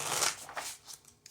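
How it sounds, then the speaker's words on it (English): A quick riffle of a tarot card deck being shuffled by hand, close and soft, a crisp papery burst that fades into a few light taps. "Get one more shuffle for my kitty cats."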